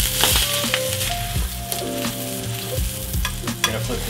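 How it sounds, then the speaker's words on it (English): Lamb sears fat side down in a hot pan with a loud, continuous close sizzle and crackle, broken by a few light clanks and shifting spatters. "Gonna get our lamb in, fat side down."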